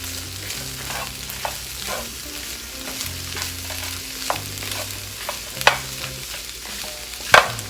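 Ground turkey and peppers sizzle steadily in a hot pan while being stirred, with soft scraping and a few sharp utensil clinks against the pan, close and continuous without talk.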